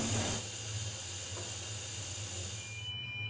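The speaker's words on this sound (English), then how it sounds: "Well, steam is definitely coming in now." Steam hisses steadily into a smoke detector test chamber during a fire detection demonstration, a continuous broadband rush with a low hum beneath, cutting off near the end.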